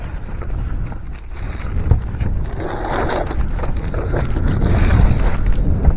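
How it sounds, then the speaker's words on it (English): Strong gusting wind buffets the microphone with a loud, continuous low roar on an exposed roof during shingling work, swelling toward the end with no clear talk over it. "It's very windy out here today"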